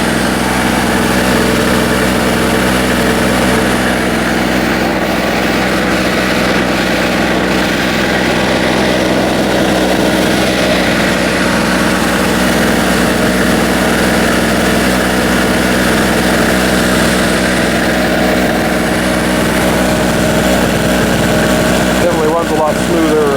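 A Harbor Freight portable generator engine runs continuously, a steady loud mechanical drone with vibration throughout, under occasional talk.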